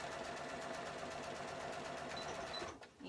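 Stitching a cardigan seam on a sewing machine: a continuous rapid, even whir at moderate volume for nearly three seconds, then a quick slowdown and stop with a small clunk.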